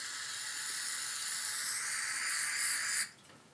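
Carburetor cleaner sprayed onto the carburetor of a 2006 EZGO TXT gas golf cart gives a loud, steady aerosol hiss lasting about three seconds before cutting off abruptly.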